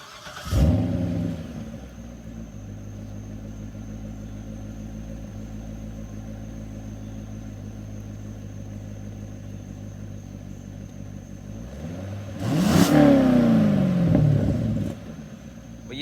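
A 2013 Chevrolet Corvette Grand Sport 60th Anniversary V8 starts with a sharp bark, settles into a steady low idle rumble, then revs hard in a loud climbing burst near the end before dropping back.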